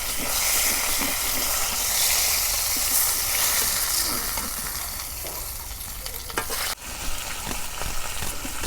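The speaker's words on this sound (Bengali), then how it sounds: "মাছ ভাজা হচ্ছে" Pangas fish frying in oil in a home kitchen: a loud, steady sizzle and hiss with occasional stirring clatter, plus one sharp knock partway through, and no talk.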